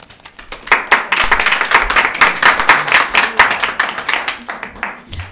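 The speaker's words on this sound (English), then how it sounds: "I'll ask that you hold your applause after a speaker finishes" Applause from the audience at an Ojai city council meeting after a public speaker finishes, sharp close handclaps building quickly and sustained at moderate loudness before tapering off.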